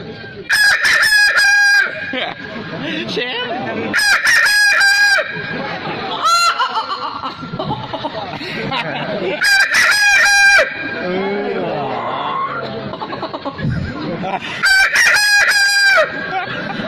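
A voice imitates a rooster's dawn crow, giving four loud, drawn-out crows at steady intervals, with talk and laughter from others between them.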